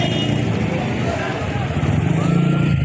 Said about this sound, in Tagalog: ayun grabe mga motor di na umuusad